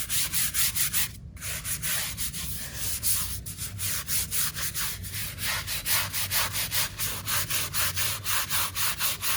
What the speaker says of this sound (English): Scrubbing the grout joints.